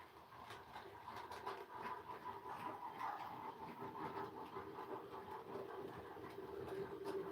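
A model train locomotive with tender running along its track, a continuous mid-level rolling whir with light rhythmic clicking, steady and close, without voices.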